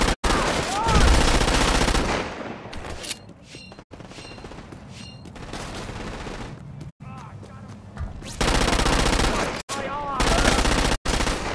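Gun turret machine gun fire in Crackdown 2, loud rapid automatic bursts in several long runs broken by short pauses, with voices talking between and over the shooting.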